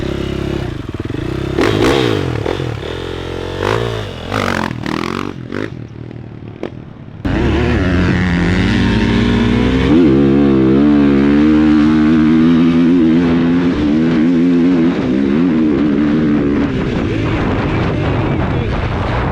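A motorcycle with a stock exhaust revs and runs through the pits. Irregular engine and clattering sounds come first, then a loud, sustained revving engine roar dominates to the end.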